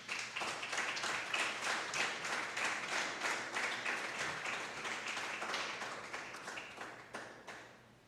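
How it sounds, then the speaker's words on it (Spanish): A church congregation claps steadily for several seconds, the applause thinning out toward the end. "Dale un aplauso al Señor, por favor."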